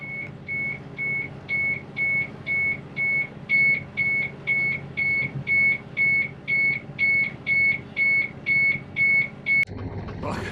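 A sailboat's radio beeps in a steady, even rhythm, about two short tones per second, over a low engine-like rumble, then cuts off near the end.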